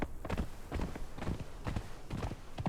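A horse mount in the video game Conan Exiles trots with a steady, rhythmic clip-clop of hooves, close and clear throughout.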